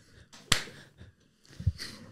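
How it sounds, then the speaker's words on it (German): One sharp hand clap, close and crisp, with softer handling noises and thuds around it in a quiet room. "Kannst du bitte wirklich nur einmal klatschen?"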